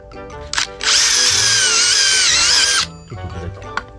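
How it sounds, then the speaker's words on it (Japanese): A power drill bores a pilot hole in an Irector pipe for a Hiace side bar, with a loud, high whine that runs for about two seconds between short handling clicks and brief starts before and after. "まず下穴を開けますね"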